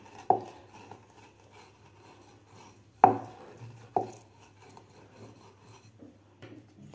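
A rolling pin pressed over taro leaf veins on a board: three sharp knocking thumps with short scraping rubs between, close and dry against a quiet background, no talk.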